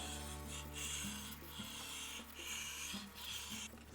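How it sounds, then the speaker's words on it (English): Rhythmic rasping strokes of a kitchen knife across a 1000 grit whetstone, back and forth in steady repeated passes, close and clear with no talk. "gonna do a stroke back with some pressure, no pressure as we come forward."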